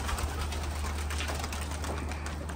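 Soft pigeon cooing blends into a steady wash of bird chatter and ambient noise, with no talking.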